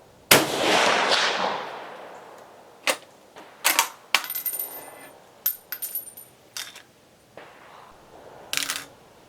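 An 1891 Mauser rifle fires one loud, sharp shot at an outdoor target range, with a long ringing decay, followed by a scatter of metallic bolt clicks and handling noises.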